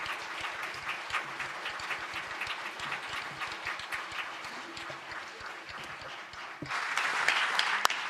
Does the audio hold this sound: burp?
no